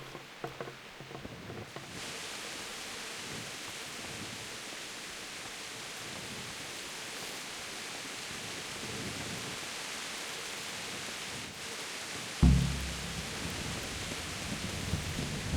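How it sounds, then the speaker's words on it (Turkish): Steady hiss of heavy rain throughout in the video game Kingdom Come: Deliverance, then a sudden low rumble of thunder near the end, broad and enveloping. "Nasıl yağmur yağıyor?"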